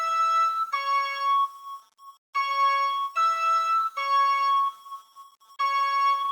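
FL Studio melody built from the Purity pan flute preset layered with a GMS synth, playing bright, clean sustained notes in short phrases separated by brief gaps, clear and alone.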